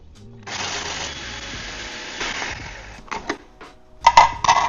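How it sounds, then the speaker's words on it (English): Food processor grinding toasted Nilla Wafers into crumbs, a close whirring buzz lasting a few seconds, then short pulsed bursts with rattling crumbs. "So we're gonna take that into the food processor."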